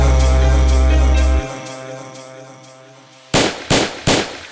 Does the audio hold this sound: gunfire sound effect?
yes